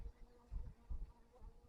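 A soft, steady hum of honey bees buzzing around an opened long hive, faint and close, with slight pulsing swells and no voices.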